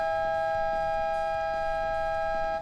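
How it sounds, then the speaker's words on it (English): Steady multi-tone wail of air raid sirens sounding at Clark International Speedway before a Toyota Vios Cup race, a sustained loud chord holding evenly without breaks. "it feels like air raid sirens, but this is the mood we have here at the moment at the Clark International Speedway"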